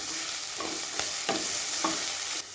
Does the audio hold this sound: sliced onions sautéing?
yes